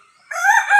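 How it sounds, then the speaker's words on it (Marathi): A domestic village rooster on a farm crows loudly and close by, answering a wild jungle fowl; a bright rising call that starts abruptly after a brief quiet moment. "आपला कोंबडा त्याच्या कॉलला इकडनं उत्तर देतोय."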